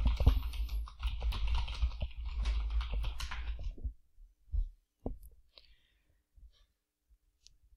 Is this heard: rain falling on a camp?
no